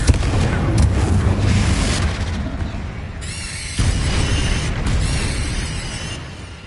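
Confringo spell blasts in the video game Hogwarts Legacy, heavy rumbling booms layered with mechanical clatter, two loud surges separated by a brief dip, dense and continuous throughout.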